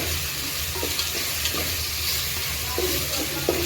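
Biryani masala stirred and fried in oil for a chicken tikka biryani: a steady, close sizzle runs throughout, with occasional soft scrapes of a spoon through the thick paste.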